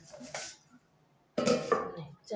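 A lid set down onto a cooking pot of Bengali tilapia fish curry with winter vegetables, a short metallic clatter near 1.4 seconds, with a fainter clink earlier and a brief one at the end.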